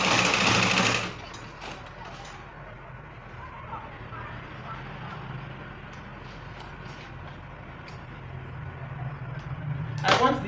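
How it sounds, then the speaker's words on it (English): A sewing machine top-stitches the slit of a bustier gown, running with a steady mechanical whir through the middle, framed by louder bursts of noise at the start and end. "I'm going to straight it very well and top stitch it now."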